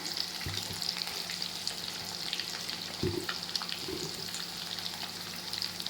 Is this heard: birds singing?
no